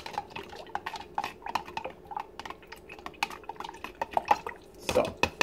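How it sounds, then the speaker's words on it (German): A plated metal part is swished back and forth in a small pot of distilled water, giving faint close sloshes, drips and light clinks against the pot in an irregular rhythm. "jetzt nehme ich nochmal ein etwas größeres Töpfchen destilliertes Wasser und reinige das nochmal durch ein paar Mal hin und her fahren"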